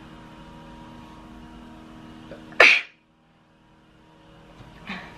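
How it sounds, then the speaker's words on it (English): A single sharp, loud sneeze bursts out close by over a quiet indoor background, followed by near silence and a faint rustle a couple of seconds later. "I'm going to sneeze"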